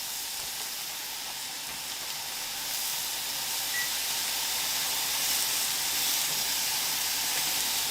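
Marinated carne asada steak sizzles steadily in a pan, a loud, even, bright hiss that swells slightly partway through and carries on unbroken, with no talking.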